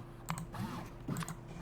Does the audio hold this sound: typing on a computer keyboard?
yes